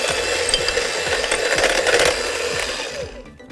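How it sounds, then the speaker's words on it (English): An electric mixer whirs steadily, close up, through carrot cake cupcake batter in a bowl, with faint rhythmic ticks and no talking before the motor winds down at the end. "Give it a quick mix and drop in 1/2 of the wet mix."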